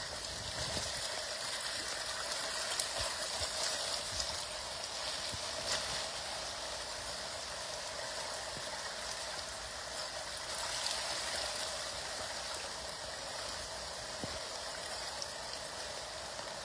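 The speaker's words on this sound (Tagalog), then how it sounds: "Malakas ang agos." Strong typhoon floodwater from Typhoon Kristine surging through farm rice fields, a steady broad rushing roar of moving water heard continuously at moderate distance.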